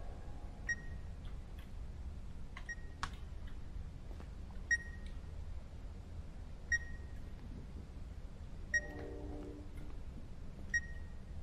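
Repeated short electronic beeps in The Beast Inside 2 horror game, a single tone sounding about every two seconds over a low ambient drone, with faint clicks and a brief murmur.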